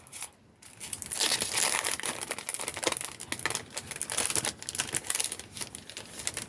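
Continuous crinkling and tearing of a handmade paper envelope being opened, close and fairly loud, with dense rustling bursts and no talking.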